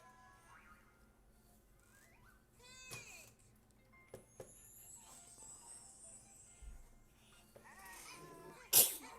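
A single sharp sneeze bursts out near the end of a quiet indoor stretch, preceded by faint scattered squeaks and small noises at low level.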